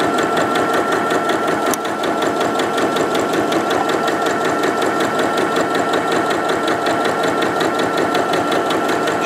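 Close and loud, a sewing machine runs a hem along a dry hot-water-bottle cover in one steady burst of rapid, regular stitches with a single brief click early on.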